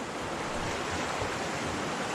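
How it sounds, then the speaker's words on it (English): A mountain creek in Tonquin Valley rushes in a steady, close, broadband wash of flowing water, unbroken and without talk. "When I heard this creek and saw this bridge, I was like, that sounds like camp to me."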